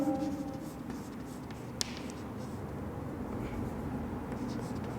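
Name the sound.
writing an equation on a board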